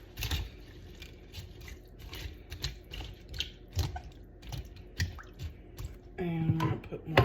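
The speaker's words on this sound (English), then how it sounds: "Let's just stir it up." Chicken noodle soup is stirred in a Tupperware pressure cooker, giving soft wet squishes and clinks of a utensil in an irregular rhythm, with a brief louder squeak near the end.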